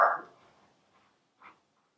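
A dog barks in a home kitchen during cooking, with one sharp, fairly close bark at the start that fades out and a second, softer bark about a second and a half later. No one speaks over it.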